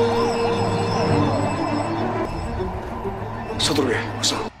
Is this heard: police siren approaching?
yes